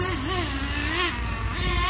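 A TG10 Mk.2 nitro-engine RC car runs with a loud, continuous buzzing whine whose pitch wavers up and down as the throttle shifts, with no talking over it.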